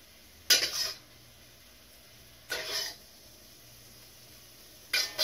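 Cooked shrimp scraped from a pan onto a plate: three short metallic clatters of utensil against cookware, spaced about two seconds apart in a quiet kitchen.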